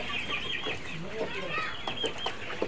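Broiler chickens, just sold and loaded into a vehicle, cluck and squawk continuously as a dense, busy flock, steady and fairly close, with scattered sharper calls rising above the chatter.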